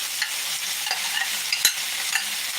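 Broccoli, mushrooms, green peppers and onions with a little minced ginger stir-fried in a 14-inch Lodge wok, giving a steady loud sizzle broken by a few sharp scrapes and knocks of the utensil against the pan.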